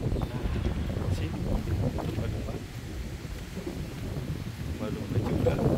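Strong wind gusts roar steadily across an open microphone on a morning walk through the town of Waisai in Raja Ampat, a continuous low buffeting rumble that swells and eases.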